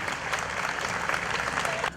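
Congregation applauding loudly in a Catholic church on Palm Sunday, a steady dense wash of clapping hands that lasts about two seconds and then stops abruptly.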